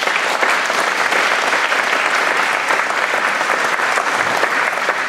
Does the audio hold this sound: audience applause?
yes